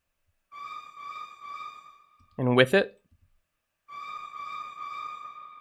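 A synth melody plays dry in short repeated phrases, then returns drenched in full reverb with a smeared, lingering tail; someone speaks briefly between the two passes.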